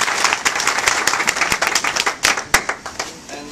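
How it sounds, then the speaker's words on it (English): A room of listeners at a gathering with county officials and the sheriff breaks into moderately dense applause, individual claps standing out in a lively, uneven patter that thins toward the end. "He deserves a round of applause."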